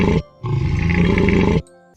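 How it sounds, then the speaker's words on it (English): A camel gives a deep, throaty grunting bellow, one short burst and then a longer sustained rumble, loud and close, with nothing else audible. "camel"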